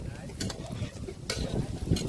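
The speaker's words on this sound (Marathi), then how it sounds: "इकडे कांदा तळण्याचा कार्यक्रम चालू आहे" Chopped onion frying in oil during an outdoor Shimga party cookout; a soft, steady sizzle is broken by a few brief, brighter hissing bursts, moderately close.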